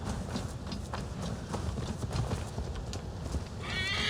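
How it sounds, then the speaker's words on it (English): In the video game Assassin's Creed Valhalla, rapid hoofbeats of a galloping horse drum steadily, then a high, quavering neigh rings out near the end. "Bring me my horse."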